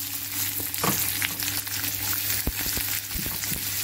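Onion frying in oil for bread pakora: a steady, close crackling sizzle with a low hum beneath and a series of brief scraping and tapping stir strokes near the end.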